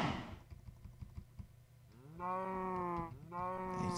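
Cows moo twice in Minecraft, two drawn-out lowing calls after a stretch of soft keyboard tapping and background clicks.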